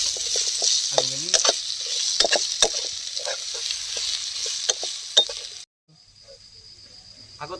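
Diced potatoes fry in oil in a pan, giving a loud, steady sizzle with scraping stirs across the pan for several seconds before the sound cuts off and a fainter hiss continues.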